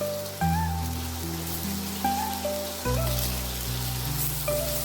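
Chopped ridge gourd hits hot oil in a pan already holding fried bitter gourd for Bengali shukto, giving a steady rain-like sizzle beneath gentle background music.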